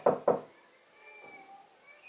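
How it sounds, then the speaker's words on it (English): Two sharp knocks on a door in quick succession, close and distinct, followed by faint background sounds. "The first thing, I would knock the door audibly. Don't bang the door."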